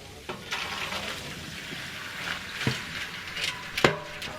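Washed, soaked raisins being drained of their water through a strainer while making Om Ali, with a steady rush of pouring water, clattering and a few sharp metallic knocks against the pan.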